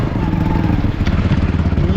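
A motorcycle engine that had been flooded in high water runs loud and close, a rough, fast-pulsing idle that keeps going without a break.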